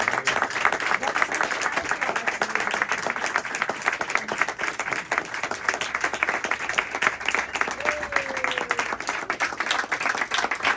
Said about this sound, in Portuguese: Palmas então para fechar.